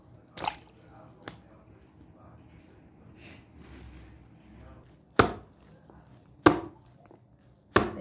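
Olives being cracked for brined olives: a few sharp, isolated cracking knocks spaced a second or more apart, close by, with soft wet handling sounds and faint background murmur between them.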